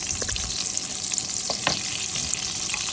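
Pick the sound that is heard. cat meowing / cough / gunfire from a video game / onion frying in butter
onion frying in butter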